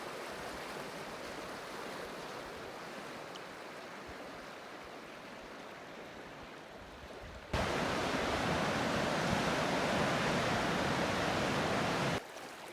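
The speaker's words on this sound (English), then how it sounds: "it's just really high, really fast water" High, fast-flowing water in a small Idaho mountain creek, a steady broadband rush close by that jumps noticeably louder partway through as the sound source moves nearer the current.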